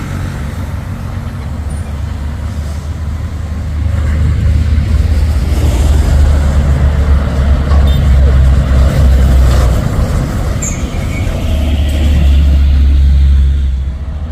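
Orange Fuso 220 PS trucks pass on a hill road near Bukit Kodok, giving a loud, low diesel rumble that swells about four seconds in and holds heavy, with a brief rise near the end and no talking.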